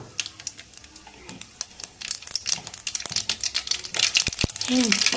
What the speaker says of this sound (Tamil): கடுகு பொறிஞ்சு அந்த சத்தமெல்லாம் அடங்கினதுக்கு அப்புறம்